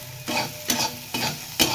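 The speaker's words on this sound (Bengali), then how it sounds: "অল্প তেলের মধ্যে সামান্য নাড়িয়ে চাড়িয়ে এরপর একটু নুন হলুদ দিয়ে সামান্য ভাজা ভাজা করে নিয়েছি" Vegetables in a little oil with salt and turmeric being stirred and fried in a pan, with four distinct scraping stir strokes over a soft sizzle, close and alone.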